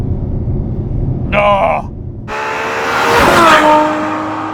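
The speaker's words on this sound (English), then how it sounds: "Oh, just howls this car. The noise this thing makes is unbelievable." A Ferrari F12 Berlinetta's V12 howls under hard acceleration, its loud engine note rising sharply in pitch through the revs, heard from inside the car while a person gives a brief exclamation.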